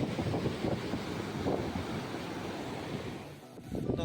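A river near a village runs fast and full, giving a steady, loud broadband rush of flowing water with some wind buffeting, continuous throughout with no voices.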